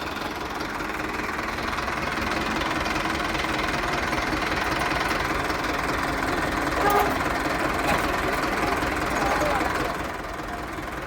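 A tractor engine runs steadily in a farm field where the tractor is stuck, a continuous rough rumble with knocking texture at a constant loud level throughout, heard close by with outdoor noise around it.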